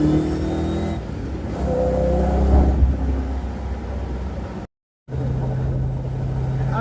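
Ford Mustang with custom flow tube exhaust and tailpipes revving hard, a loud rumbling engine that swells and drops, then settles into a steady low idle after a brief dropout, with a few spoken words over it.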